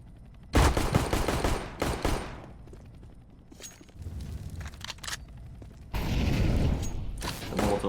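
Gunfire in a CS:GO 2v2 match on the Vertigo map, loud rapid bursts and single shots with a quick headshot, separated by quieter gaps of footsteps and game noise.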